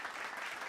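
A brief burst of steady applause for an award winner at a national achievement day ceremony, dense clapping filling the short moment without speech.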